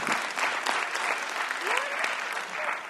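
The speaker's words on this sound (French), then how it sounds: "Le public vous applaudit." A theatre audience applauds a performer taking a bow on stage, dense steady clapping filling the whole moment with a brief voice rising over it near the end.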